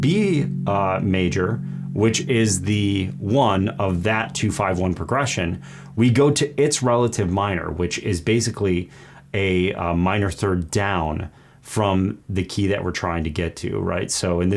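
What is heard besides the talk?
No everyday noise stands out behind the speech.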